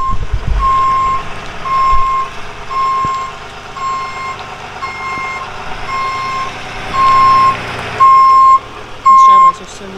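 A truck reverses on a narrow, rain-soaked driveway, its backup alarm beeping in a steady rhythm over a low engine rumble, the last few beeps louder and closer.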